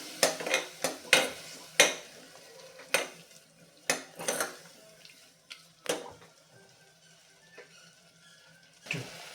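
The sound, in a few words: sautéing and stirring tomato puree in a pressure cooker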